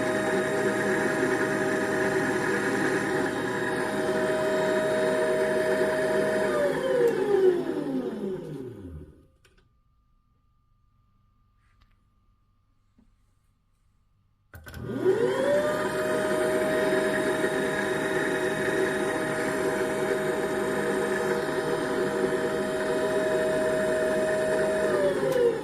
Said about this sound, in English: Watch carefully when the first motor is driven at 135 volts.